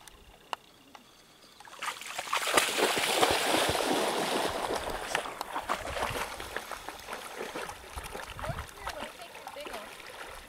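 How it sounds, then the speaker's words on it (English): Carp thrashing at the very edge of a flooded local lake, a burst of splashing and churning water that rises after a quiet start and then settles into rippling, up close. "This is a carp going up to the very edge of the water."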